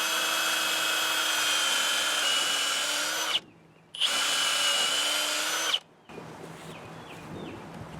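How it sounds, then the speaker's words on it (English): Power drill boring a hole into wood for a hammock support, a loud steady whine for about three seconds, a brief pause, then a second sustained run before it stops and quieter handling noise follows. "and now we drill the hole."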